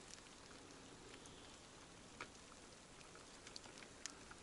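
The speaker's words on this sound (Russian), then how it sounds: "Кратковременный дождь начинается." Light spring rain beginning to fall near a forest cabin, a faint steady patter with occasional sharper drops tapping close by, no voices.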